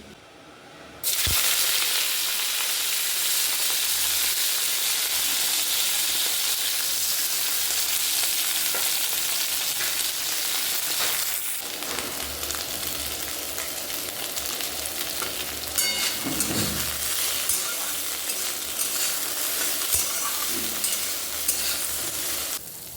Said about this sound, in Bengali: ব্রকলিটা কি সুন্দর দেখো, লাল লাল করে ভাজা হয়ে গেছে